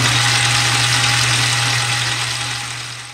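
A lathe runs steadily while taking a fifty-thousandths cut on a steam engine cylinder, giving a continuous loud machine hum with a strong low drone that fades slightly toward the end.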